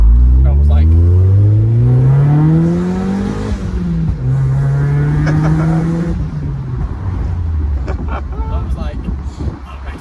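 A Mazda MX-5 engine revs up loudly, pitch climbing then holding and dropping, close by and throaty, with a voice talking over it.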